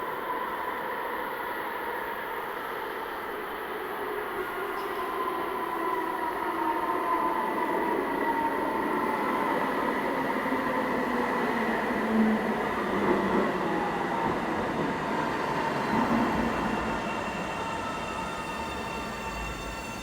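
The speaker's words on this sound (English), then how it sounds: "Eastbound train to Blair is arriving" An Ottawa LRT light rail train pulls into a station platform with a steady rolling rumble and rising and falling wheel and motor whine, loud and close throughout.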